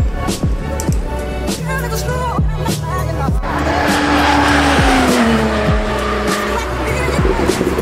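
A car roars past at high speed on the Nürburgring with loud engine revs and screeching tires, with passing engines and a faint crowd behind.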